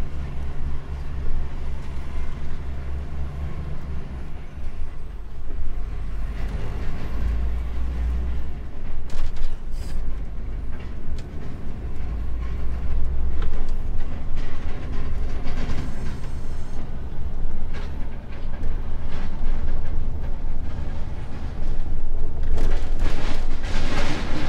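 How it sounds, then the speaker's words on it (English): A truck towing a noisy trailer rolls through a small village, with a steady loud low engine and road rumble, rattling clatter from the trailer, and bursts of clanking that rise toward the end. "Just come through this tiny little village with this noisy trailer"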